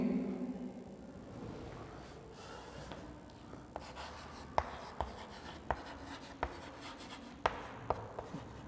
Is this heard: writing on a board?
yes